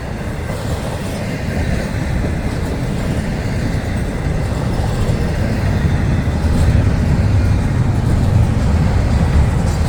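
A long freight train loaded with UPS trailers and shipping containers rolls past on the FEC line, a loud, continuous rumble and clatter of railcars on track that holds steady throughout, with no voices.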